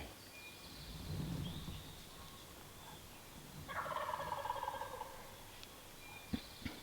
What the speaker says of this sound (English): He's still gobbling in the tree.